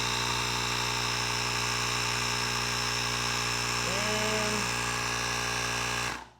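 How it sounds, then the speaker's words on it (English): Small, quiet portable air compressor inflating a Ducati V2 motorcycle tire, a steady buzzing drone running nearly continuously at close range before cutting off at the end, with a brief tonal chirp partway through. "I like this little compressor more than I like my big one because it's a lot quieter than the rest"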